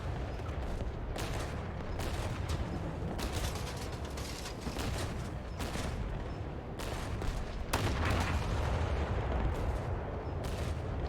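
Naval ship guns firing in War Thunder: a run of booming shots over a constant low engine and sea rumble, moderately loud, spaced irregularly with a heavier blast near the end.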